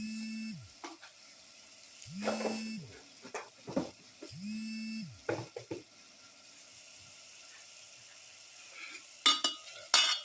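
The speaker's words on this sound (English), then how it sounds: "thoroughly mix" A spoon scrapes and clinks against a pot while a spice mixture with black pepper powder and garlic is stirred into beef for a stew. The sounds come as scattered close strokes with low appliance hums in between.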